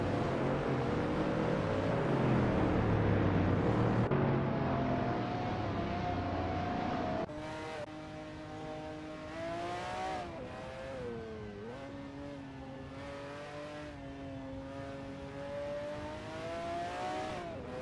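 Supercars driven by AI race around the Zolder track in a racing video game, engines droning and shifting in pitch as they rev and pass, one steady roar giving way to several overlapping whines.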